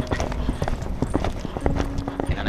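Rhythmic clip-clop of horse hooves at a trot, close and brisk, with a voice speaking faintly underneath.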